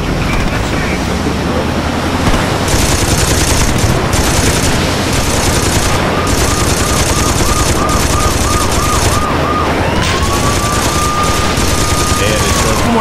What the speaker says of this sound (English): Man the gun!